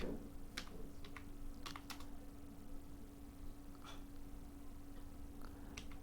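Sparse, faint keystrokes tap on a computer keyboard as a word is typed, a few quick clicks at a time over a low steady hum in a quiet room.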